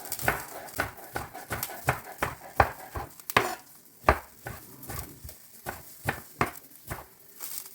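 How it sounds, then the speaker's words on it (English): Knife chopping cilantro on a cutting board in a home kitchen, a steady series of sharp close taps in an uneven rhythm, some quicker bursts between pauses, with no talk. "Cut up cilantro or cilantro."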